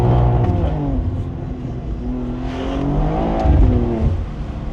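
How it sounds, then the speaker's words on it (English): A car engine idling in a street in Zimbabwe's capital, revved slowly with a low rumbling drone that swells and settles, steady and fairly close throughout. "It's not that exciting revving this car in idle because it revs really slowly"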